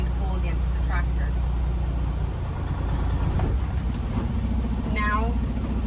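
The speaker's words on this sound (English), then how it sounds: "I'm going to set tractor brake, release the trailer brake, and I'm going to pull against the tractor" A tractor-trailer truck engine rumbles low and steady while the rig pulls against the set tractor brake, with a voice talking over the constant drone throughout.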